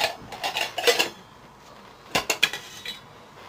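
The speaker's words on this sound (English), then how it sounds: "here you've got a little frying pan, a bowl, a little saucepan, a cup" Small metal camping cookware from a bug-out bag (frying pan, bowl, saucepan, cup and lid) clinks and rattles close by in two short bursts of handling, with a quiet pause between.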